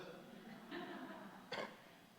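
A single short cough-like burst, fairly faint, preceded by a softer throat noise against a quiet room background, from a pastor coughing during a Wednesday church service.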